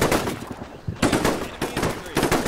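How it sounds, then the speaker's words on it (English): Troops in the video game Combat Mission Shock Force open fire, with rapid, dense machine-gun bursts and gunshots rattling continuously and loudly. "Open fire, boys!"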